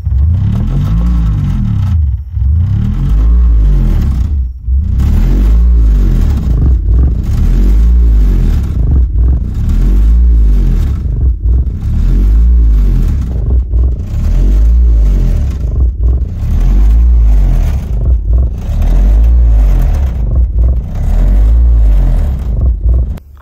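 Loud, deep 20 to 60 hertz bass test tone pumped through a car subwoofer, booming in repeating sweeps that rise and fall every couple of seconds, with heavy rumble and some rattle, continuous throughout.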